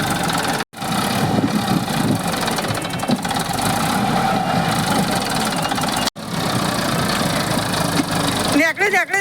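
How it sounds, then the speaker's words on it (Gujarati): A tractor stuck in mud runs its engine with a steady, loud, rough mechanical drone that drops out briefly twice, with people talking over it throughout. "કાંઈ ટ્રેક્ટર તો ફસાઈ ગયું છે"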